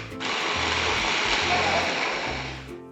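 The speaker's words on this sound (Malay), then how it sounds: "saya lebih suka menggunakan hand blender sahaja kerana lebih ringkas dan mudah" Handheld stick blender grinding onions into a fine paste in a home kitchen, a steady loud whirring drone that starts abruptly and runs continuously for nearly three seconds before cutting off.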